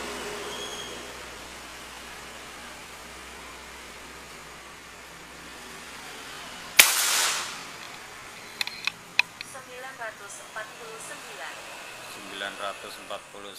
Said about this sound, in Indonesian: Tembakan ke-12.